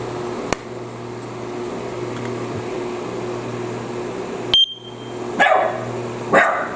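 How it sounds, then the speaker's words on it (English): A pet dog lets out a few sharp barks, spaced apart and fairly close, over a steady indoor hum with a faint beep near the start. "the dog barks because that's what she does"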